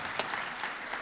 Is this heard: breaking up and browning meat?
no